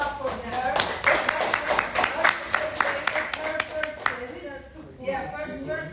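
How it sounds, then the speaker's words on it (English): An audience at a master class claps for about four seconds, a brisk run of hand claps, followed by a voice speaking briefly. "Let's clap for her."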